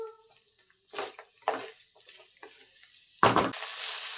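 Sabudana (tapioca pearls) frying in a pan over varying heat, with soft sizzling and a few bursts of spoon-stirring scrapes, the loudest swell near the end; no talking.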